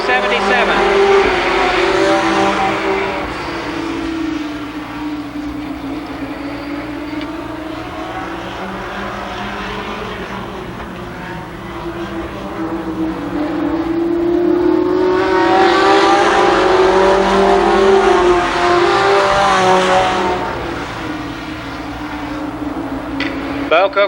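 IMCA modified race cars roaring around Columbus Motor Speedway, a continuous loud engine drone swelling and fading as the cars pass, under a race announcer's running commentary.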